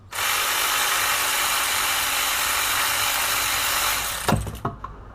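A cordless drill runs loudly and steadily for about four seconds removing the drain plug on a 2013 Honda Civic Si during an oil change, then stops, followed by a few metallic clunks and clicks nearby.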